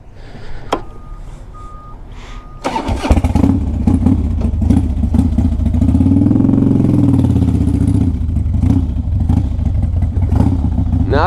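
A 2002 Harley-Davidson Dyna Wide Glide with an 88 cubic inch engine cranks after a few clicks and catches, settling into a loud, close, lumpy V-twin idle with a brief swell in revs.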